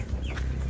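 Basilan giant breed chicken, a broodcock, clucking close by with a short throaty vocal call over low farmyard rumble, brief and alone.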